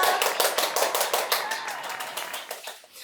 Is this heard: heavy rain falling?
no